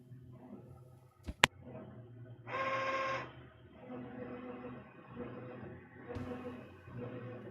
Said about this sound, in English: I am starting printers all the way down the line here. They're all printing the same thing.